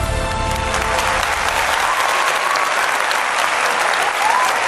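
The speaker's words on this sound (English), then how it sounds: "Give a big round of applause for AdTAO." Loud, steady applause from a large audience at a tech conference presentation, dense continuous clapping filling the whole stretch with a faint tone in the background.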